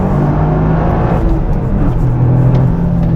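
A 2024 Toyota GR Yaris three-cylinder turbo engine hums and revs steadily, loud and close, with a low droning tone that rises slightly near the end.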